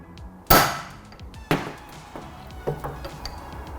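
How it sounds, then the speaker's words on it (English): A hammer taps a center punch on stainless steel, with three sharp metallic strikes spaced about a second apart, the first loudest and the later ones lighter, in a quiet workshop. "Let's get the center punch on it and give it a tappy tap tap."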